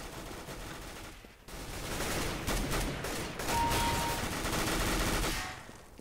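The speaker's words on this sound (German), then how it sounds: "Hör auf zu schießen, Junge." Rapid gunfire from Counter-Strike: Global Offensive, with dense automatic bursts rattling almost continuously, loud and close, with a short pause before the shooting resumes.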